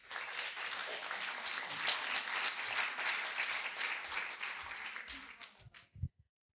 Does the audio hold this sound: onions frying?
no